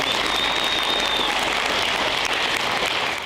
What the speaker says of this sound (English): So again, round of applause.